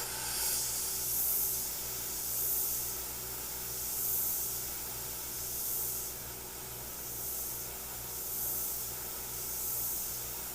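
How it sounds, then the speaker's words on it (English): An airbrush sprays paint under a microscope with a continuous soft hiss that gently swells and fades in slow pulses, steady and close. "Here is airbrushing with a microscope"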